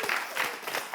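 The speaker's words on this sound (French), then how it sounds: "On s'applaudit." Studio audience on a French television show applauding a game's winners, a brief burst of close, lively clapping with pulsing swells and a faint murmur of voices.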